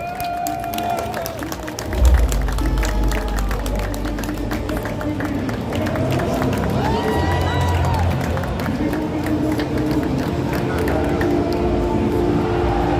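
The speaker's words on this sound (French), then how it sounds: "Sous vos applaudissements toujours." Crowd at a cosplay show during Paris Games Week 2024 applauds and cheers in a sustained, dense wash of clapping, with a thump near the start and voices mixed in throughout.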